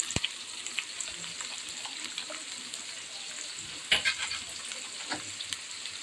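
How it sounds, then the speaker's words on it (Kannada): Tempering for tomato rasam, with mustard seeds, dry red chillies, curry leaves and garlic dropped into hot oil: a steady close sizzle with scattered pops and crackles, and one louder burst near the end. "ಎಣ್ಣೆ ಹಾಕಿ ಸಾಸಿವೆ ಮತ್ತು ಹಿಂಗೆ ಹಾಕಿ, ಒಣಮೆಣಸಿನ್ಕಾಯಿ, ಕರಿಬೇವಿನ ಸೊಪ್ಪು, ಬೆಳ್ಳುಳ್ಳಿ"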